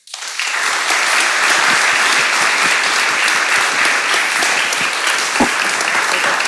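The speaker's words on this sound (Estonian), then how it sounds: "teeme neile suure aplausi" A seated audience at a panel discussion on sustainable entrepreneurship claps for the panelists, a loud, full burst that rises quickly and carries on evenly, with a few sharper individual claps standing out near the end.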